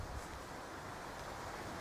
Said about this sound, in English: I've got a river just down from me, it sounds wonderful.